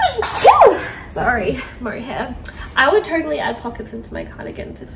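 A sharp sneeze bursts out near the start, then a person keeps talking in a steady voice.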